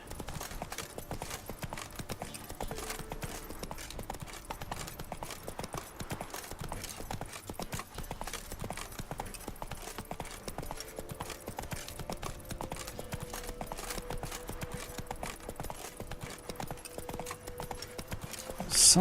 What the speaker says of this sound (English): Geralt rides his horse about as well as I do at the minute.